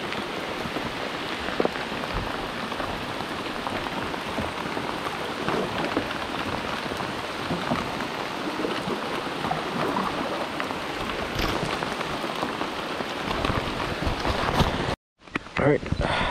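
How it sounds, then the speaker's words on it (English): Steady rain pattering on water and surfaces during a kayak fishing tournament, a dense continuous hiss of drops close by, briefly cut off near the end. "It's raining out"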